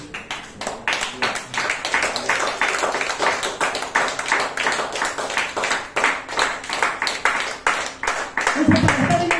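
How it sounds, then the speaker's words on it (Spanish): A church congregation claps together in a sustained, dense round of applause, many hands striking at once and filling the room evenly for several seconds, with a voice briefly heard near the end. "Den la aplauso al Señor."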